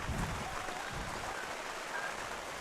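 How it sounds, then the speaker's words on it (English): Cold rain falls steadily at an outdoor baseball game, a soft, even hiss of drops that stays faint and continuous without talk. "ever since the rain has started coming down"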